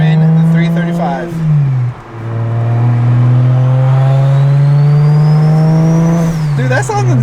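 Single-turbo N54 BMW 335 fitted with a VRSF exhaust accelerating hard, its engine note rising steadily through a long pull with a brief shift dip, loud and close from inside the cabin, with a turbo whistle climbing above.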